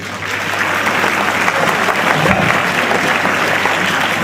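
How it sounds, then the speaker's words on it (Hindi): An audience applauds a student at a career guidance session, a dense, loud and steady wash of clapping that holds evenly from start to finish. "तो थोड़ी ज्यादा तालियां दीजिए इनको,"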